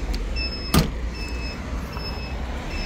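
An electric power window on a new electric Muravey-type vehicle in Bukhara hums smoothly up and down in steady runs, with one soft thump early on and no talking.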